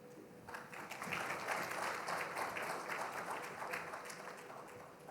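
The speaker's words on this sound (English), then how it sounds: "Getting a bigger applause for Mr. K. Venkatesh Murthy here." Steady applause from a large conference audience fills the whole stretch, a dense patter of many hands clapping at an even level.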